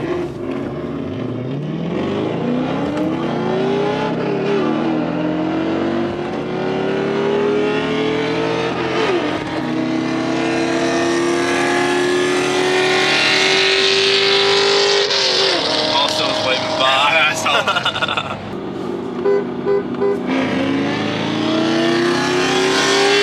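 Powerful Ford Mustang S197 engines rev and roar as they drag race a manual 2020 Dodge Challenger, accelerating hard, pitch climbing steadily through gear changes, loud and sustained with crowd noise in the background.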